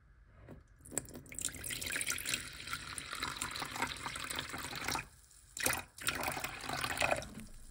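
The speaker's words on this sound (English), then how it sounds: "So what I will do is simply pour this vinegar till this point over here." White vinegar poured into a Baby Brezza One Step sterilizer in a kitchen, a steady close splashing trickle of liquid lasting several seconds with brief pauses and no talk.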